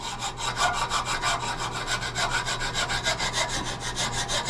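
A hand file rasps across a steel knife blade clamped to a steel table, about four even strokes per second in a steady back-and-forth rhythm, close and loud, with no voices.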